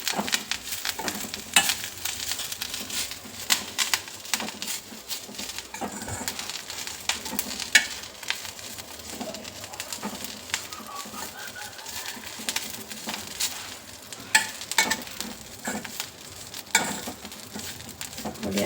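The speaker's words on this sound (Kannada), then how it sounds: "ಹಸಿ ಆಗಿರೋದೆಲ್ಲ ಚೆನ್ನಾಗಿ ಎಣ್ಣೆ ತುಪ್ಪದಲ್ಲೇ ಬಾಡಿಸ್ಕೋಬೇಕು" Curry leaves frying in a mix of oil and ghee while being stirred, giving a steady broadband crackle and sizzle with scraping stirs and small pops throughout, close up, with no one talking.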